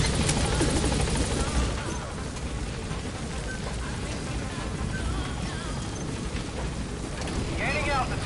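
A support helicopter departs an LZ in Metal Gear Solid V, its heavy rotor roar loud at first, then easing into a steady lower thrum as it climbs away, with radio voices in the game talking over it.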